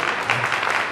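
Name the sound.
child clapping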